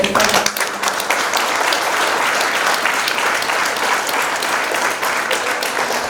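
Warm, sustained applause from an audience at a school farewell ceremony honouring teacher Kertikaryan, dense clapping holding steady and loud from start to finish.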